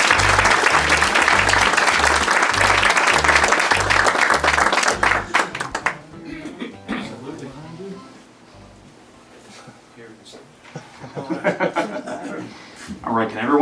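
An audience at a history talk breaks into loud, sustained applause to welcome a speaker, the clapping thinning out after several seconds into scattered murmurs and a voice starting to speak.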